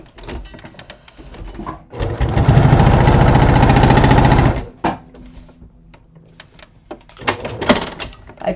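A sewing machine with a thick needle runs a burst of top-stitching through leather for about two and a half seconds, loud and steady, with scattered handling clicks before and after.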